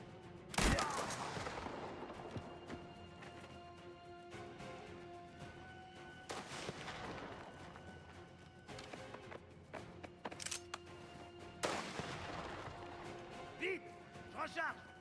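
Several loud gunshot blasts with echoing tails in Mafia: The Old Country, spaced irregularly over a low ambient rumble, with people talking and shouting between the shots.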